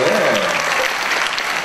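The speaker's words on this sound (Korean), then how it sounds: "아주 젊고 패기만만한 김재윤 의원님 한 번 더 박수 부탁드립니다" Guests at a Korean book launch event applaud a young lawmaker, a full, continuous round of crowd clapping, loud and even, with a faint voice briefly under it.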